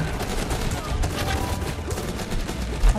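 Dense, continuous gunfire from a top-down Guns Up! battle, overlapping shots forming a steady fusillade with a deeper thump near the end, and a voice is heard faintly underneath.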